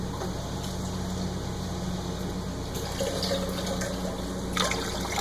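A cup of well water is poured into a jar of vinegar, beets and sugar in a home kitchen, giving a steady close splashing flow that runs evenly throughout with no talking.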